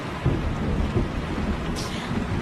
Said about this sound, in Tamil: நாங்க இப்போ கேரோலின் புயல்ல மாட்டிக்கிட்டு இருக்கோம்.